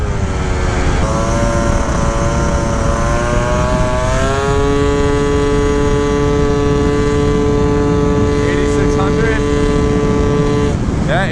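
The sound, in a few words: Gilera Runner 172cc scooter engine revving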